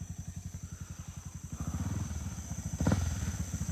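A motorcycle engine putters in a steady, rapid rhythm up close, then gains volume as it revs and pulls away, with a brief louder burst near the end.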